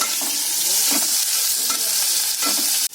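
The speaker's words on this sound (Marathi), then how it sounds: "त्यानंतर आता ही कांदा, टोमॅटो, मिरची चिरलेली टाकायची. ते आता परतवणार." Chopped onion, tomato and green chilli sauté in a hot pan. A loud, continuous sizzle fills the sound as the pieces are stirred and turned with soft scraping strokes, ending in a sudden break.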